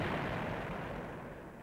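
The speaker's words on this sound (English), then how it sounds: "There you get your kaboom." Explosion in the Sewer Shark video game, a dull, deep rumbling boom that fades slowly over under two seconds, heard alone.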